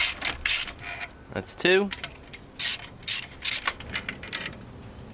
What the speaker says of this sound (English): Now we can loosen them up all the way.